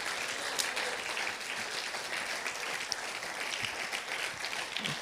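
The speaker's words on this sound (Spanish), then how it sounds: "Denle un aplauso fuerte al Señor ahí." A church congregation in Chile applauds, dense steady clapping throughout with no break and no talk over it.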